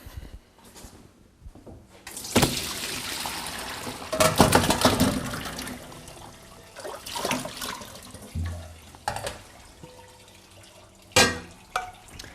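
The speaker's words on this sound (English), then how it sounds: "So I'm going to strain these into a colander." Water from boiled potatoes pours into a colander, a close rushing gush with splashes and drips that rise and fall over several seconds with no talking.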